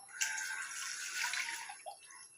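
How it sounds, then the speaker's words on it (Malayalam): Water pours into a bottle in a short, steady, close rushing stream lasting about two seconds, quiet and alone, before milk goes in for mango ice cream. "അതിലാദ്യം കുറച്ച് വെള്ളം ഒഴിക്കുക"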